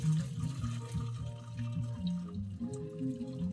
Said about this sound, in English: We're going to pour that through the colander and strain it out.